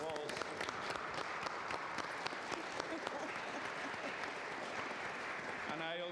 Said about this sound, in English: I want to bring an applause.